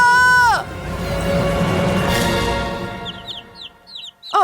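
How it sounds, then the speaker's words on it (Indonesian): A chicken making clucks and squawks close by, with loud, varied bird calls over noisy background commotion, and a short run of sharp chirps near the end. "Ada seekor ayam di situ."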